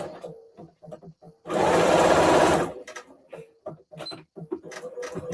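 A sewing machine stitches quilt fabric scraps in one steady whirring run of about a second, loud and close, with someone talking before and after it.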